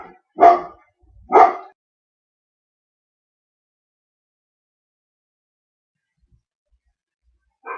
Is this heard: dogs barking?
yes